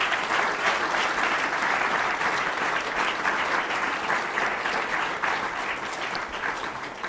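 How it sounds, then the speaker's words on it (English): A conference audience at a humanitarian energy event gives a steady, sustained round of applause, dense and even throughout, fading slightly at the end with no talk over it. "I'd like to give a big round of applause to the team of Practical Action and MOCAP."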